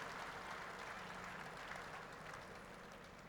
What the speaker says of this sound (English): Give yourselves a big hand.